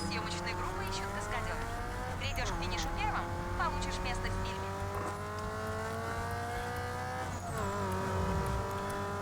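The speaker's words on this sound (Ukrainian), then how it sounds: "вихлопну систему і правда замінили новий глушник. Тепер краще звучить чим минулий." Race car engines with a new muffler drone and rise in pitch under revving in Need for Speed Underground 2, with tire squeals and bursts of game sound effects, continuous and fairly loud throughout.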